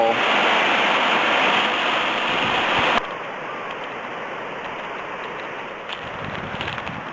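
Broad, steady rush of river water flowing through a concrete channel, loud and continuous, dropping to a softer, more distant wash partway through.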